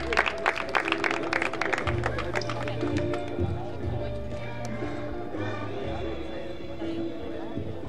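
Spectators clapping during the prize-giving at a doma vaquera horse-riding contest, the applause strongest at first and fading under loudspeaker talk and background music.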